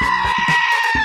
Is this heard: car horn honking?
no